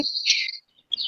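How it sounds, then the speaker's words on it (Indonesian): Birds chirp in bright, high tweets, a burst of calls, a brief pause, then more chirping, fairly close and clear with no talking. "Oh, kok buantar banget suara burungnya ini."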